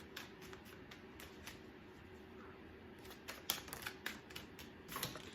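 A deck of tarot cards is shuffled in quick papery riffles and flicks, close and crisp, with a steady high hiss underneath and brief sharp card snaps near the end.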